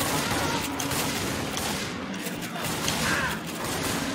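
Rapid gunfire from Left 4 Dead 2 on a Resident Evil map in online co-op, a dense continuous fusillade of shots rattling throughout, fairly loud and steady with no pause.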